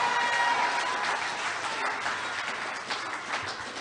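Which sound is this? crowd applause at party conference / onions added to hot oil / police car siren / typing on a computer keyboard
crowd applause at party conference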